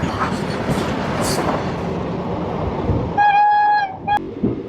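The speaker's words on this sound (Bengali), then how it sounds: "আমাদের হলদিয়া আসানসোল এক্সপ্রেস এখন ছুটে চলেছে খড়গপুরের উদ্দেশ্যে" The Haldia-Asansol Superfast Express 22329 rumbling along at speed with a steady roar of wheels on rails, then a long loud horn blast and a short second toot near the end.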